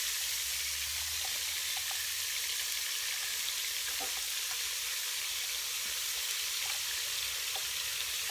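Onions sizzling and frying in melted butter for turkey stuffing, a steady hiss throughout with faint crackles and pops, no talking.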